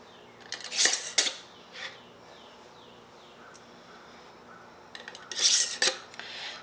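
Metal lids are screwed fingertip-tight onto glass canning jars of homegrown carrots, giving short bursts of scraping, clinking metal-on-glass rasps in two clusters, close and fairly quiet with no talking.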